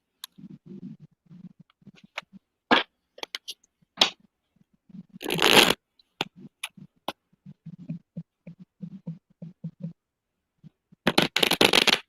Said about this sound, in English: Shuffle, shuffle.